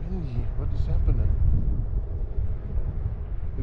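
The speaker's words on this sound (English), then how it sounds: "It's extremely windy." Strong wind buffets the microphone with a constant low roar while riding a Onewheel outdoors, as a person talks over it.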